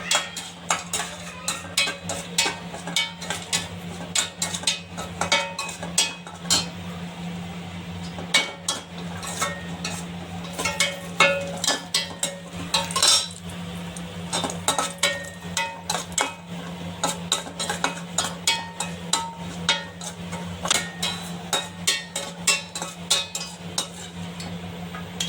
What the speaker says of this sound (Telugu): తర్వాత ఈ కాజుని కూడా వేసి దోరగా వేపుకోవాలి ఫ్రెండ్స్.